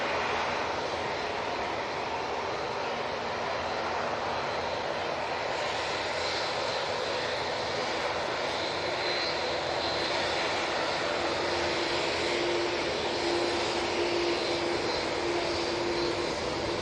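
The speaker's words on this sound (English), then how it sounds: "Next out will be the Qatar 787-9 Dreamliner coming down Victor Bravo." Qatar Airways Boeing 787-9 Dreamliner jet engines at Manchester Airport, a steady, loud, broad roar that holds evenly for the whole stretch with no voices over it.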